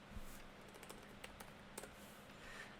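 Typing on a computer keyboard, a quiet run of light key clicks at an uneven pace, with a few sharper taps standing out.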